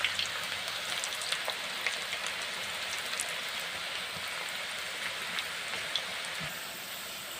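Pakoda fritters frying in hot oil, giving a steady, close crackling sizzle with scattered pops and spits throughout, no voices over it.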